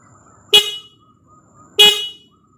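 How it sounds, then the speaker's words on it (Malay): The stock horn of a Perodua Axia gives two short, loud honks about a second apart, heard up close and alone in near silence. "kita nak cuba dengar dulu macam mana bunyi horn standard Asia"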